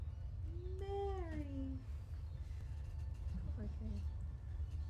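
A person's voice imitates a cat yowling while being given a bath, a drawn-out falling meow, then quieter talk over a low background hum.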